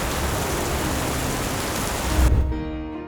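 Steady rain pours down loudly and evenly for a couple of seconds, then cuts off abruptly into a quieter hum.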